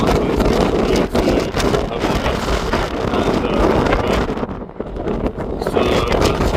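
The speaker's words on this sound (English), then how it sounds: "bear with me regarding audio and visuals because it's really, really, really windy" Strong wind at Cape Point in Cape Town, South Africa, buffets the microphone with loud, continuous roaring gusts, dipping briefly before surging again.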